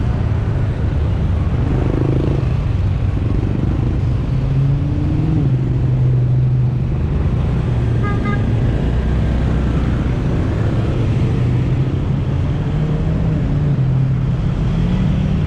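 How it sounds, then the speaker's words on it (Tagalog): Heavy road traffic on EDSA in Manila, with a steady low engine rumble and a dense wash of vehicle noise, a few faint horn-like tones rising briefly in the middle, with no talk. "Grabe, sobrang traffic."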